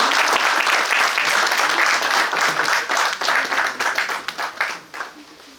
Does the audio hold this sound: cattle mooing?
no